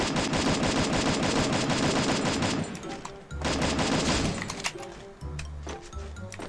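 Rapid automatic gunfire from the video game Free Fire, dense bursts of loud shots rattling for about three seconds, then a short pause before more clustered bursts and scattered single shots, with game sound effects between them.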